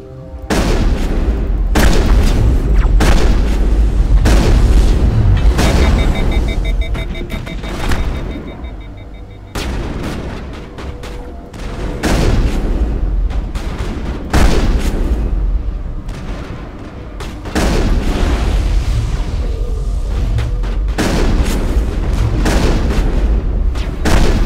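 Sustained, heavy gunfire rages in a Mass Effect battle, with dense overlapping shots and deep booms that continue loudly and almost without a break.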